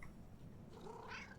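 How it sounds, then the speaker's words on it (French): A cat meows in a Halloween video game, one soft drawn-out call near the end of the moment, quiet and alone. "Le chat."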